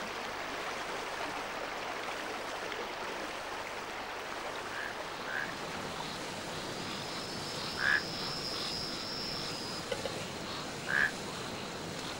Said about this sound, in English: Much of the prevailing noise in the forest came from the humble frog